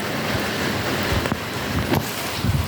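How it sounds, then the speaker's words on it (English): Rain falling outdoors at an apartment in Lào Cai, Vietnam, a dense, steady hiss of drops with a few louder splashes and bumps near the microphone. "That's that beautiful Vietnamese rain."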